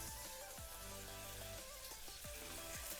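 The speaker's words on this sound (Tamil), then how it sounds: "ரெண்டு ஆனியன் ஒரு தக்காளி போட்டு வதக்கி விடலாம்" Two onions and one medium tomato sautéing in a pan for potato masala, with a steady, faint, hissing sizzle and occasional soft pops and spatters throughout.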